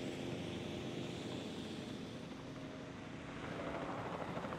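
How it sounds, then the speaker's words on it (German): A helicopter landing in the Jurassic World Evolution park-building game gives a steady, loud, broadband rotor and engine roar that fills the whole clip without a break. "Heli ist gelandet, das ist gut."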